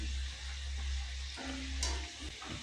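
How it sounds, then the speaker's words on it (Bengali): Moong dal khasta kachori deep-frying in hot oil, a steady close sizzle and bubbling hiss running throughout with brief stirring disturbances. "এ দেখো তেলের মধ্যে পড়তেই উপর দিয়ে হয়ে আসছে খাস্তা কচুরিগুলো।"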